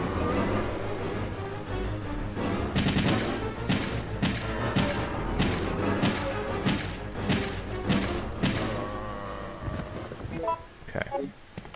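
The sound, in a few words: assault rifle gunfire in video game Resident Evil 3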